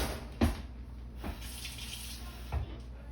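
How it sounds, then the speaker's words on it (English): Water pours from a tap into a bowl of cornstarch to make a cornstarch batter for sweet and sour chicken; a soft, steady splashing stream runs throughout, broken by a few light knocks. "I'm gonna add a little bit of water to this."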